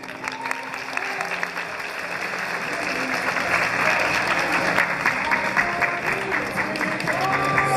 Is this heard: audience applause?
yes